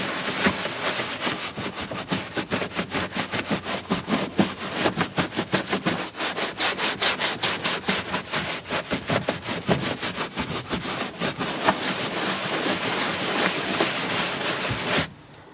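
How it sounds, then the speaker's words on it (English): A stiff brush scrubs the carpeted wheel arch liner of a car with rapid, rhythmic back-and-forth strokes, close and loud, continuing without pause before stopping abruptly at the end. "I try and meet somewhere in the middle with medium stiffness brushes paired with plenty of elbow grease"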